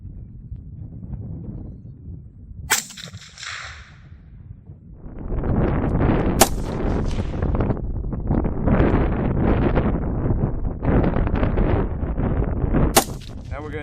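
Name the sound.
6mm ARC rifle shots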